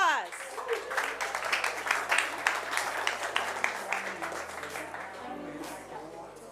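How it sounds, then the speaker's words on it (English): An audience at a startup founders' panel applauding to welcome the speakers, steady clapping from a room crowd that gradually thins out over low background music. "Round of applause."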